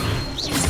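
Levioso levitation spell from the video game Hogwarts Legacy, a short, loud magical whoosh and thud with a rising shimmer, heard amid dense combat sound.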